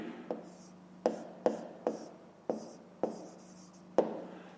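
Pen or chalk writing numbers during a fifth-grade math exercise, a series of about eight sharp taps and short scratching strokes at an uneven rhythm, close and quiet, with no talking.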